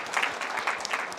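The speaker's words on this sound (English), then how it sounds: "give a round of applause for him" A brief patter of clapping from a small audience at a brain injury awareness talk, a handful of distinct hand claps close by, lasting just over a second.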